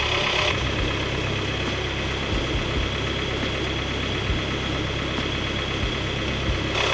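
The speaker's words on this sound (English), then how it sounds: "I'm using the engine and warming up my toast" A sailboat's engine runs at a steady idle while toast is warmed on it, a continuous low throbbing drone with faint vibration and no voices.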